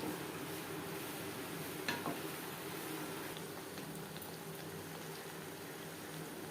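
Chana masala with mutton fat cooks on a medium flame, giving a faint, steady bubbling simmer with a soft hiss and one brief stir or tap, quiet and unbroken by speech.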